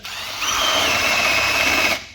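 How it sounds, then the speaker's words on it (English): A power drill with an 8.5mm bit bores a hole for an M10 thread, a loud steady whine that starts, holds for about two seconds and cuts off, with no talk. "drill a hole in the thing"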